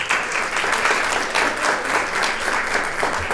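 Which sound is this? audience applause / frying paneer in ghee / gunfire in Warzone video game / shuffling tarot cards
audience applause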